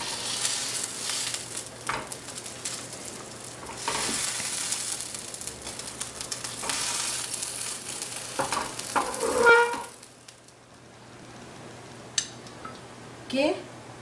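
A quesadilla fries in a pan with a soft, steady sizzle. Scraping and clatter come from flipping and stirring, someone speaks over parts of it, and the frying quiets toward the end.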